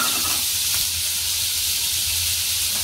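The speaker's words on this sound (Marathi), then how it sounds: "सर्वात प्रथम आपण हे पनीर कढईमध्ये टाकायचे आहे" Small paneer pieces dropped into hot oil in a kadhai, giving a loud, steady sizzle and hiss that fills the whole stretch without letting up.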